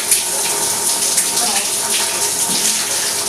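Tap water running steadily while a kitchen cabinet is rinsed during cleaning, a continuous loud splashing rush that fills the whole stretch with little variation.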